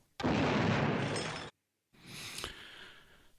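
A cannon sound effect: a loud, sustained roaring blast, a brief silence, then a second rumbling burst with a sharp crack partway through.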